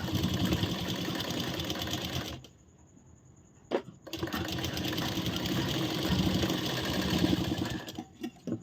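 A sewing machine stitches a blouse lining. Its steady, close whirring clatter runs for two seconds, breaks for about a second and a half into near-silence with a single tap, then resumes and runs until it stops near the end.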